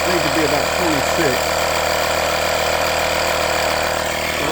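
A Hyper Tough portable tire inflator pumping up small bike tires, a loud, steady buzzing motor drone with a rapid pulsing chatter, close and continuous.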